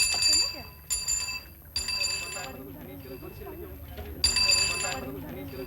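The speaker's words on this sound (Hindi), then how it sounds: "लेकिन अविनाश, घंटी तो मत बजाओ।" A hand bell rings out in several sharp bursts, some ringing on while others cut off quickly, between stretches where people talk in a domestic scene.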